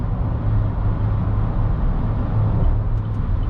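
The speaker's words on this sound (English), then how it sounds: "I do hear some wind noise, but it is really not too bad" Steady low rumble and broadband rushing of wind noise inside a 2021 Chevrolet Traverse moving on the highway, constant throughout with no talking.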